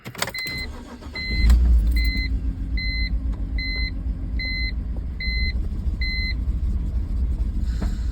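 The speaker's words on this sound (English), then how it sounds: "hopefully this is a smoother crank than last time" A car engine, treated with Liqui Moly MoS2 anti-friction additive, cranks briefly and catches, then settles into a steady loud idle rumble, accompanied by a regular series of high electronic warning beeps; no talking.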